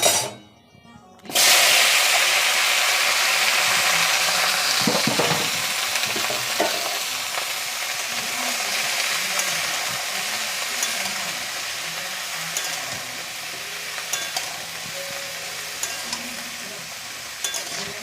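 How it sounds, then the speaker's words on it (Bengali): Potatoes and cauliflower dropped into hot oil, a sudden loud burst of sizzling that continues as a dense, steady hiss with occasional stirring clinks, close by and without speech. "এখন আলু ফুলকপিটাকে সুন্দর করে ভাজবো। চলো এটাকে এখন ছাড়ি"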